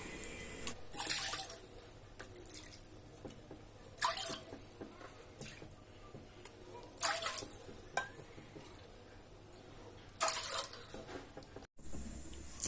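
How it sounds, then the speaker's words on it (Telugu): Water poured from a cup into a pot on a lit stove, several short splashing pours spaced a few seconds apart with quiet gaps between, close and fairly clear. "ఈ కప్పుతో 7 కప్పులు నీళ్ళు వేసుకుందాం."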